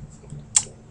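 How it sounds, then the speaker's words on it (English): A single sharp click of the period key being pressed on a computer keyboard, short and close, against a quiet low background hum. "press period on your keyboard"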